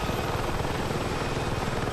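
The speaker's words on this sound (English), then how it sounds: "as soon as you bring the nose up, the helicopter just wants to stop where it is and it starts going down." A steady, close helicopter rotor and engine roar from a Battlefield game craft pulling its nose up to slow and descend for landing, loud and unbroken, with no one speaking.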